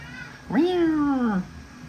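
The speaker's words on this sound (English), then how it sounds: "My cat has decided to sing the songs of his people right now." A house cat gives a single drawn-out meow lasting nearly a second, rising then slowly falling in pitch, close and clear over faint room hum with no talk.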